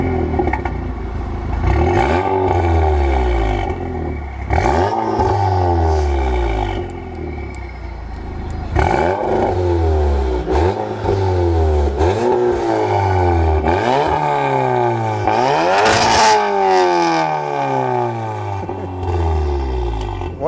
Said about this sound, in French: Tu peux nous démarrer la voiture? T'as un échappement à clapet là-dessus?